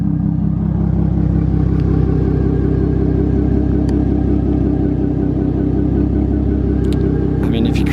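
A Ford Mustang with a 3.7 V6 and aftermarket exhaust idles close by, giving a steady, loud, deep burbling rumble with even pulses and faint clatter throughout.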